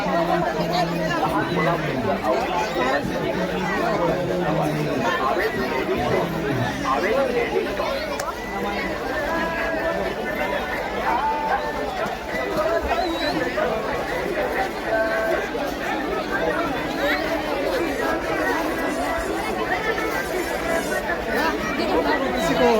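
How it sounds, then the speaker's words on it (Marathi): Dense crowd bustle at the night fair market of Kunkeshwar yatra, with steady overlapping chatter and footsteps from many people nearby, continuous and fairly loud. "आणि आता गर्दी वाढते आहे, कारण आता जशी रात्र होईल तशी या यात्रेला गर्दी वाढत जाईल"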